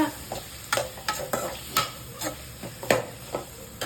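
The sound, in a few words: tomatoes and onions sautéing and being stirred in a pan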